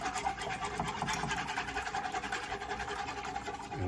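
Whisk scraping steadily around a pan as milk is worked into a macaroni and cheese sauce: a continuous close, rhythmic scratchy swishing at moderate volume, with no talking.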